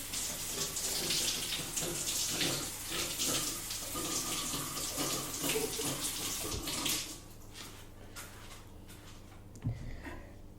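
Tap water runs steadily over a vegetable being washed in a kitchen sink, a close continuous splashing stream that softens near the end and is followed by a brief clunk, with no speech.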